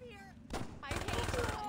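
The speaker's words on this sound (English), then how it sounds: "who the fuck is shooting at me?" Gunfire in the Saints Row video game: a couple of quick, fairly quiet bursts of shots crackle in rapid succession within a noisy game scene.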